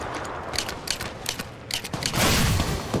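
Rapid gunfire from the mobile battle royale game Apex Legends Mobile, a dense chattering burst of shots repeating through the fight with a louder, fuller volley near the end, with no talk over it.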